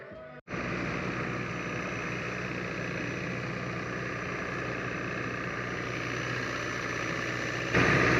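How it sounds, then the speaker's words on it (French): A tourist boat engine in Thailand runs steadily with a constant droning hum and rumble, loud and close, continuing without pause. "malgré le bruit du bateau"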